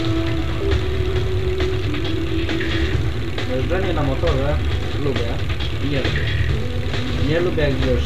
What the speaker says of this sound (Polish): Jeżdżenie na motorze lubię i jeżdżę.